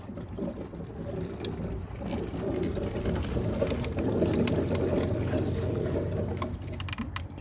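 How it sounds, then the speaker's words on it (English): Pool water gurgles and trickles after the pump is switched off and its valve reset, a steady low watery churning in the background that swells slightly midway and holds with no voices over it. "You can probably hear the water gurgling in the background there."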